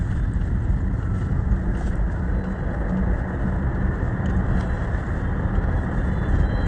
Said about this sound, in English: the car is driving very smoothly